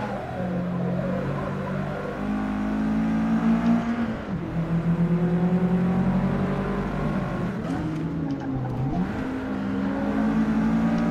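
A race car engine in Forza Motorsport revs loud and steady, climbing through gears with brief dips at shifts, as the engine note rises and falls over about eleven seconds.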